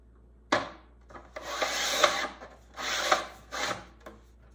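Sliders of a Giffin Grip scraping into place to center a pottery piece, several rough rubbing, rasping strokes with short pauses between them, close and moderately loud, with no talking.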